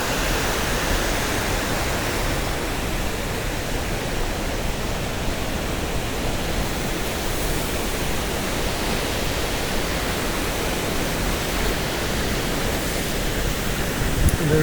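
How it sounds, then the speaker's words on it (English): A waterfall in Wales where a river pours straight over the top, heard as a loud, steady, broadband roar that fills the whole stretch without pause and without voices. "อีกหนึ่งน้ำตกนะคะที่นี้จะมีหลายอันมากค่ะเพื่อน ๆสวยงาม"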